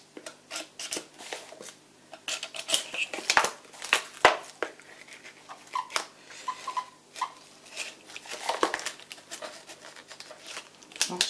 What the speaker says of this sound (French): je vais couper la boîte,